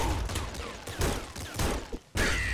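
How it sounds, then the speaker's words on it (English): Enemy Bouncer fires rapid bullet volleys in the game Nuclear Throne, giving loud overlapping gunfire bursts amid busy game effects, with a brief drop near the end before the firing resumes. "Oh, so Bouncer shoots bullets."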